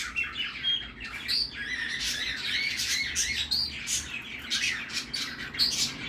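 A cockatiel vocalizing up close, a string of shrill squawks, whistles and chirps in irregular bursts, fairly soft but clear against a quiet room.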